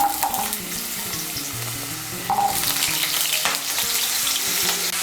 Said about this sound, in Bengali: কড়াইতে যে তেল আছে এই তেলের মধ্যে আলুগুলো ভেজে নেব।